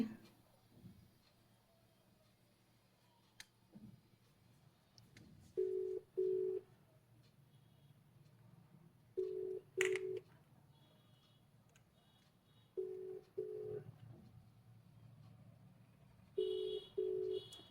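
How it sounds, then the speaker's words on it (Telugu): A phone call rings out: paired ringback tones repeat four times at steady intervals, clear but modest in level over a quiet, faintly noisy room with soft clicks between rings. "బాయ్ ఇంకొకరికి కాల్ చేస్తా"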